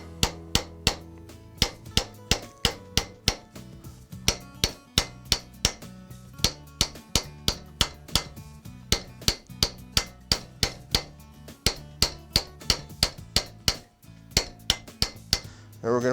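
Metal bracelet being raised into a concave shape by hammering it against a stake: a long run of sharp, ringing metallic blows in a steady, quick rhythm, close and loud.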